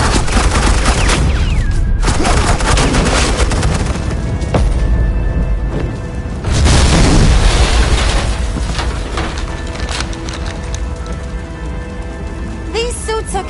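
Heavy suppressing gunfire and explosions in a Batman video game, a dense, loud and continuous barrage of shots and booms with no break, growing even fiercer partway through.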